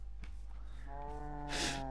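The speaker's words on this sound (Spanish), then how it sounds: "aquí hay un montón de vacas, de caballos" A cow moos once in a Minecraft-like blocky video game, a clear, close, drawn-out low call over a steady quiet background hum, alone with no talk.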